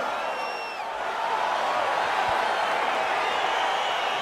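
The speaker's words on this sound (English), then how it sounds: "crowd getting excited as this fight gets underway" A steady, loud crowd roar fills an arena in the UFC 4 fighting video game as a bout begins, continuous and broad without distinct individual cheers.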